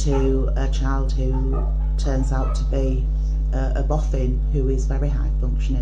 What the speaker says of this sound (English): you hear the dogs in the background